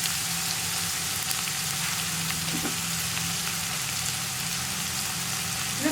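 Onions sautéing with salt and curry leaves in a pan for a jackfruit stir-fry, a steady broad sizzle running unbroken and fairly loud with no voices.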